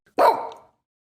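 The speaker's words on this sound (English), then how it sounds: "Sit, Eugene, sit. Good dog." A dog gives a single loud, close bark, sharp at the start and quickly fading into quiet.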